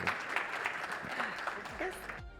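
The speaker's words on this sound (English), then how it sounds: "Can we give a round of applause?" Audience applause breaking out after a session at a circular-economy event, sustained clapping from a crowd at steady loudness for about two seconds, ending abruptly.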